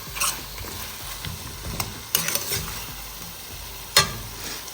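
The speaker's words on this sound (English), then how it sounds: "Keep stirring. Scrape down the sides of the pot." Curry paste for a vegan baigan and eddoes curry being stirred in a pot, sides scraped down, with a low bubbling sizzle and several sharp spoon scrapes and knocks, close and unaccompanied by speech.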